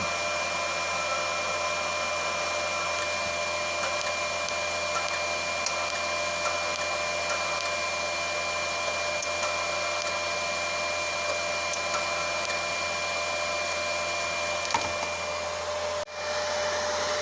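The wire feeder motor of a Dnipro-M SAB-310 inverter welder spins steadily with a continuous whirring drone and a thin high whine. Faint ticks sound over it, and it drops off near the end with no voices present.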